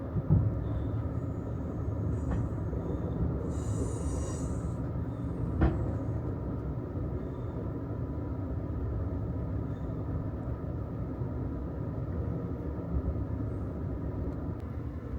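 Amtrak Auto Train running at speed through a station without stopping, a steady low rumble of wheels on rails with a brief sharper clack partway through, continuous and fairly close, no talk.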